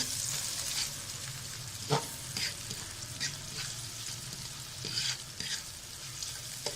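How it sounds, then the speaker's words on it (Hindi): Onions fry in hot oil in a kadai, giving a continuous close sizzle broken by repeated scraping and clinking as a spoon stirs them. "अब हम इसमें प्याज डालेंगे। प्याज को हम हल्का सुनहरा कर लेंगे।"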